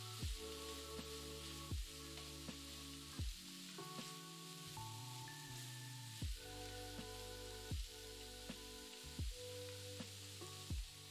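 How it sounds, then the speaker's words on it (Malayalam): Sliced bitter gourd fries in an oiled pan for a Kerala thoran, hissing in a soft, steady sizzle broken by regular scraping strokes of a spoon stirring it, quiet and without voices. "ഇത് രണ്ടും കൂടി ഇട്ട് നന്നായിട്ട് ഇളക്കി യോജിപ്പിച്ചിട്ട് 5 മിനിറ്റ് ഫ്രൈ ചെയ്യണം"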